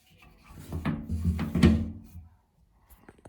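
A shower head is turned loose on its pipe, giving a few close scraping, rubbing creaks over a couple of seconds before falling quiet.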